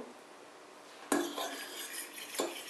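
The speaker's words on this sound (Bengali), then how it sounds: "মশলাগুলোকে এখন আমি সামান্য পানি দিয়ে গুলিয়ে নিব" A spoon clinks and scrapes against a bowl as spices mixed with a little water are stirred, with a sharp first strike followed by steady scraping and a second clink, close and fairly quiet, no talking.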